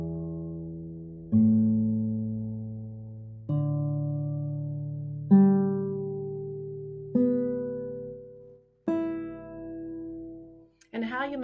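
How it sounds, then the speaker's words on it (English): An in-tune acoustic guitar rings out one string at a time, six sustained notes stepping upward with long decays and pauses between them, then a brief strum at the end, close and clear with no talking. "this guitar's in tune"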